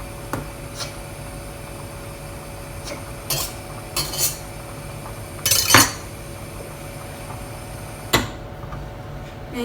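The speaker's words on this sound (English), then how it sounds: "And then I'm going to try my potato again. You need a bowl to put it in, but I might mash it in the pan just." Potato mashed in a pan for fish pie, heard as a handful of sharp metallic clinks and scrapes at irregular intervals over a quiet kitchen background, no voices.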